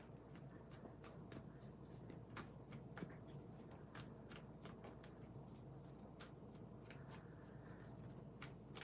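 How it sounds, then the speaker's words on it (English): Tarot cards being shuffled during a live reading, a steady run of soft riffling flicks and papery slaps repeating for the whole stretch, close and fairly quiet with no talking. "I need a moment to shuffle the cards"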